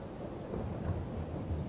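Rain falls steadily in Farming Simulator 22 with a low rumble of thunder underneath, a soft continuous wash of drops at low volume.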